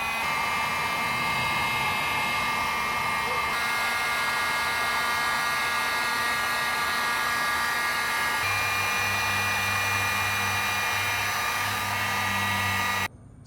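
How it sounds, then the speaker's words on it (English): Heat gun blowing steadily on a faded plastic engine cover of a Miller generator/welder, a loud, even, close-up whoosh with a whining tone that holds for about thirteen seconds and then cuts off abruptly. "I am actually going to try to use a heat gun instead of painting it to see if I can bring back the nice black color"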